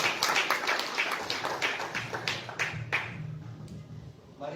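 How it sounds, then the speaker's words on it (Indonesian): A church congregation at a Sunday service claps hands in a brief ragged burst of overlapping claps that quickly thins out and fades. "Yang setuju tepuk tangan bagi Allah."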